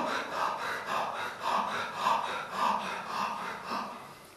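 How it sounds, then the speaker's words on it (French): Slow, deep breaths during a chakra meditation, about eight rhythmic airy inhales and exhales rising and falling close to the microphone, with no talking. "quand vous allez respirer, vous allez aller dans l'inspire. L'expire se fait automatiquement."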